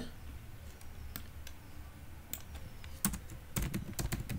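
Soft, close typing on a computer keyboard: scattered individual key clicks at first, then a quicker, denser burst of keystrokes near the end, with no talking.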